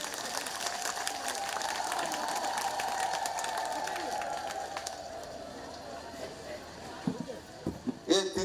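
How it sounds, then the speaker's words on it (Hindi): Applause and cheering from a crowd at an outdoor political campaign walk rally in Brahmagiri, Odisha, a steady broad wash of clapping with voices mixed in, fading near the end as louder voices break through. "मु प्रथमे माँ मान मोर गोटे जोरदार करताली देवाई निवेदन कर"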